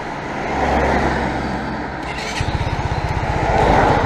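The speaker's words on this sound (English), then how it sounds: "Lights come on after you start the engine" A Daelim S3 Advantage 250 scooter engine is started with keyless ignition, then settles into a close, steady, pulsing idle that runs on alone to the end.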